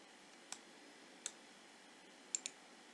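Mouse clicks while drawing in FreeCAD: four faint, sharp clicks, one at a time and then a quick pair, over a quiet hiss, with no talk.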